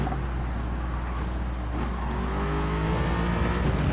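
Race car engine in Gran Turismo 7 on a European circuit, a steady loud droning whine that climbs in pitch as it accelerates, continuous and close with no talk.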